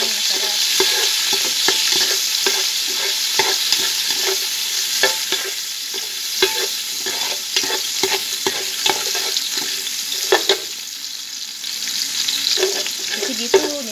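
Rice and garlic frying in hot oil in a pan, a loud, close sizzle with rapid repeated scrapes and knocks of a spatula stirring, continuous throughout.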